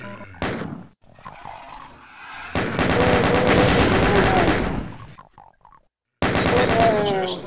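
Rapid gunfire from a launcher weapon in the video game Doom, loud sustained bursts of shots broken by brief silent gaps, with roaring game effects layered over the firing.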